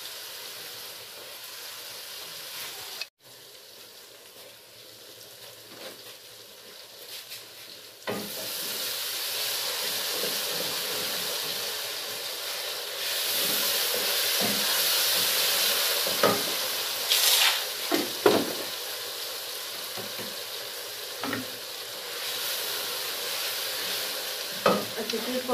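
Food frying and being stirred in a pan in a home kitchen, with a steady sizzle that swells louder partway through and spoon scrapes and clinks cutting in near the end, with no talking.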